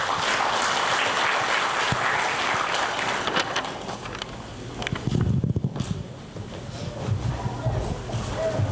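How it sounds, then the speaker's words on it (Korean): Applause at an award ceremony in Korea for the Dongmyeong Prize, a broad wash of clapping that swells and fades unevenly, with a brief thump of shuffling or movement partway through. "박수 부탁드립니다."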